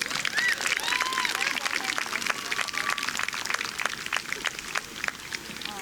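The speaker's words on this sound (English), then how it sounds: "Can we give our girls a big round of applause?" Spectators at a varsity girls' field hockey game clap for the players, scattered individual claps spaced out over several seconds, fairly distant and thin, with voices talking and calling underneath.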